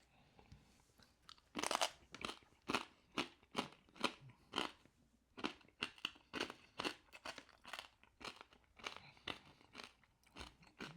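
Pork crackling is eaten with loud, close crunches that come in irregular bursts of sharp, crisp bites and chewing over several seconds, with no talking.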